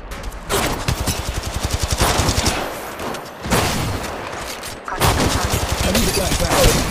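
Rapid bursts of automatic gunfire in the mobile shooter Apex Legends Mobile, loud and close, with several volleys separated by short pauses and game voice lines mixed underneath.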